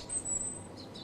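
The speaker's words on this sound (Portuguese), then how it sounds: "4 horas de chilrear de pássaros." Birds chirp in a brief, thin high tweet with a few faint follow-up calls, set against a soft, steady background wash.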